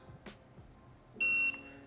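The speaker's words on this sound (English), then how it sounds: "holding down the set button till it beeps once" One short electronic beep from a TST tire pressure monitoring system (TPMS) tool, steady and fairly loud, sounds close by after a moment of quiet handling noise.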